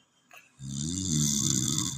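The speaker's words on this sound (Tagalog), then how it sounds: "Yan, hilik." Loud, steady snoring from a drunk man sleeping on his back, one long rumbling breath starting after a short quiet moment and continuing close to the listener.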